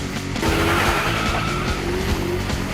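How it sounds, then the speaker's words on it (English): Several race cars roar loudly and continuously close by, engines revving hard with tires squealing and skidding across the whole stretch. "Run up your engines!"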